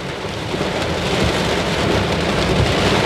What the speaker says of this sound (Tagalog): Ito pa din po yung bagyong Enteng.